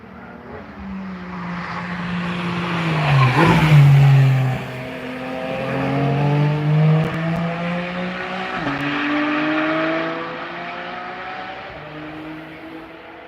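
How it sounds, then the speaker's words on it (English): Race cars pass close by at the Nürburgring track, one after another, their engines rising and falling in pitch as each roars past loudly, with several overlapping sweeps. "when the cars pass next to you, it's just so exotic"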